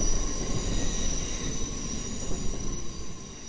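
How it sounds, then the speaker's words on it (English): A London Underground train runs into a station, a loud steady rumble with a high wheel squeal and a whining tone throughout, no voices over it. "Oh, our train's broken. Oh well, it's a normal day in London."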